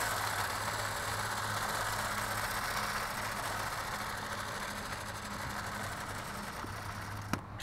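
A slasher mower engine runs nearby, a steady mid-to-low drone with a faint pulsing hum that holds throughout and eases slightly toward the end, broken by one brief click near the finish.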